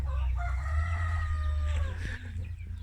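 Farm chickens crow in long drawn-out calls and cluck nearby over a steady low hum of background noise, one rooster's crow trailing off before shorter clucks follow.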